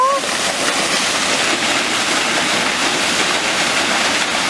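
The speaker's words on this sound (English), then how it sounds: "Is that the waterfall?" Waterfall at Drift Creek, Oregon, a loud, steady broadband roar of falling water that fills the scene close by and never lets up, with no talking over it.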